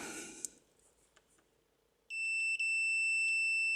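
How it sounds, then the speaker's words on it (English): A multimeter set to continuity gives a steady, loud electronic tone that switches on abruptly partway through and holds with a brief dropout, with the meter's probes on a guitar pedal's battery jack after quiet tapping. "So I got my meter set for tone."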